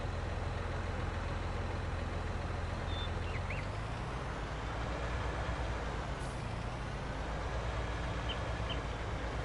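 A tractor engine in a farming video game idles with a steady low drone and rumble, continuous and unchanging throughout, with a brief faint hiss partway through.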